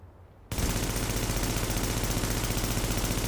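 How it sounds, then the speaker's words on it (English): Sustained automatic gunfire from a Banshee build gun in Tom Clancy's The Division bursts in suddenly after a quiet moment, a loud, dense, rapid stream of shots that continues unbroken. "So when I shoot this gun,"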